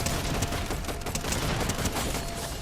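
Gunfire in the Fortnite video game, a dense, continuous rattle of rapid shots filling the whole moment at high volume.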